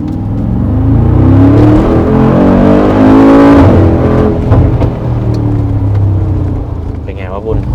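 A 2023 Mercedes-AMG G63 accelerates hard uphill, its engine and exhaust rising to a loud, deep, rumbling roar heard close from inside the cabin, with someone talking over it.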